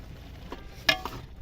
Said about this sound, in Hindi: साग को बीच बीच में से हम ऐसे हिला लेंगे ताकि सारा एक जैसा उबल